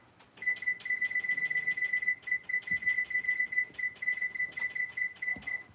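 A kitchen timer rings in fast, repeating electronic beeps, clustered in quick bursts with tiny gaps, continuing steadily at moderate volume against a quiet room.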